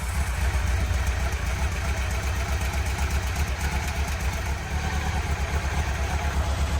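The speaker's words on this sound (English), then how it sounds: "So now that we've started the bike, we're going to let it idle for about 1 minute" A 2003 Honda Nighthawk motorcycle engine idles steadily and close by, with a low, even rumble that holds constant throughout and no voices over it.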